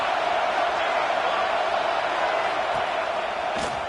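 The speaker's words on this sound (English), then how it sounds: "this crowd trying to help keep them there" Steady roar of a stadium crowd in a college football video game, a dense continuous wash of cheering that holds loud and even throughout, with no clear voices standing out.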